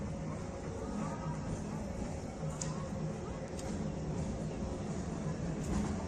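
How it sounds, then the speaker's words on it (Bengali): A late train from Bishnupur bound for Jayrambati enters the station with a continuous rumbling roar and brief high squeals, heard under people talking. "বিষ্ণুপুর জয়রামবাটি যাওয়ার ট্রেন ঢুকছে, প্রায় 1 ঘন্টা লেট।"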